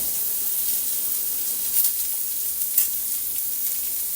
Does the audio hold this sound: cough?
no